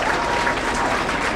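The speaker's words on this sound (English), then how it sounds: "let's give a round of applause for our fire crews for safely extricating a patient" Audience clapping for fire crews after a vehicle extrication demonstration at an open house, a dense, even burst of many hands close by, brief and steady.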